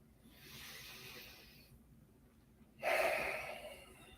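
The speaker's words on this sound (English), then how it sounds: "Let's take a breath." Deep, slow breaths during a guided morning prayer, a soft airy inhale followed by a stronger, louder breathy exhale, close and quiet with no talking.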